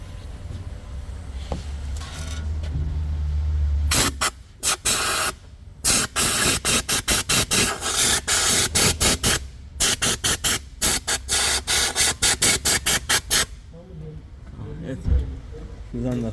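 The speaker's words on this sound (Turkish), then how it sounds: "Sık, sık şöyle." During a timing belt service on a Volkswagen Golf 1.6 TDI, a cleaner spray gives short, rapid hissing bursts in a stuttering series. It is close and fairly loud, with a low hum and a brief voice before the spraying starts.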